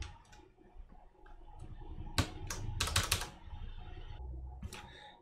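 Keycaps being pressed and snapped onto a mechanical keyboard during a refurbish with new caps, a run of close, sharp plastic clicks and clacks, bunched together in the middle, with no talking.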